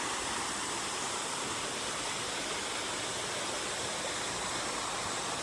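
Water pours steadily into a rock cave carved by the flow, a continuous broadband rushing roar of a waterfall, even and unbroken, no voices.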